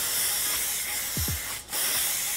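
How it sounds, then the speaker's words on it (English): A hair styling product is sprayed from a can, a steady close hiss that runs almost continuously, briefly dipping in a short gap before resuming. "I definitely inhaled some of that spray"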